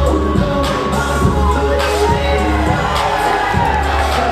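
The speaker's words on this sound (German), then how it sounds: "Marty Fabs lässt hier trotzdem feiern hier vom Lübecker Publikum" A Lübeck wrestling audience cheers wrestler Marty Fabs with loud, continuous shouting, whoops and scattered bangs, while a commentator's voice runs faintly underneath.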